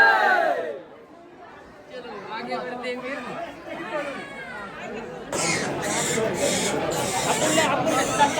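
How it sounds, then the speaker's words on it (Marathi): A dense crowd of devotees at the Saptashrungi Mata temple, Vani, chatters and calls out together, loud and close, swelling into a bright, noisy roar partway through. "दर्शनासाठी गर्दी पाहू शकत तुम्ही इकडं"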